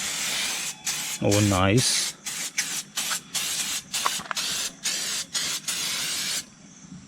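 An engine shiner spray can hisses onto a motorcycle engine's cylinder and crankcase in a series of loud, close bursts separated by short gaps, with a brief voice speaking partway through.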